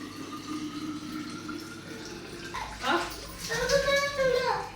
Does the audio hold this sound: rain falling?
no